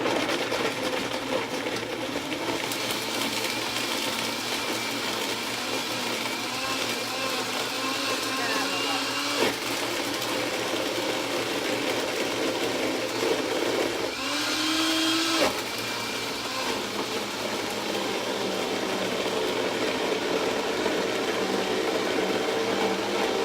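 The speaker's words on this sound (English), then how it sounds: "if they're making your blender make really awful noises" A blender whirs loudly and continuously as it grinds nuts with water into a raw vegan taco filling, its motor pitch shifting as the load changes, with talk heard over the noise.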